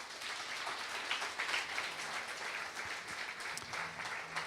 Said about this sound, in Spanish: ¿Quiere dar un aplauso fuerte al Señor?